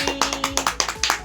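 Several people clap quickly and loudly at a family gathering, a dense run of sharp, close claps with a faint steady tone underneath.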